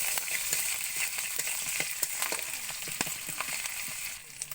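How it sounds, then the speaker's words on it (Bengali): Ginger paste being sautéed in a pan while cooking prawns with banana flower, giving a continuous soft sizzle with scattered crackles and pops, moderately quiet and steady with no voices. "আদা বাটা দিয়ে আদাটা কিছুক্ষণ কষিয়ে নিতে হবে।"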